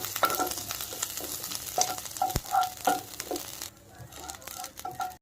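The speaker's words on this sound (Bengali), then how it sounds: "সামান্য তেলে নিম পাতা ভেজে নেব।" Neem leaves crackle and sizzle as they fry in a little oil, with steady, close-up frying and occasional stirring scrapes before the sound drops off toward the end.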